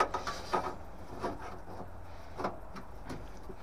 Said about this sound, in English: I'm just gonna pop our baffle back on the left hand side here.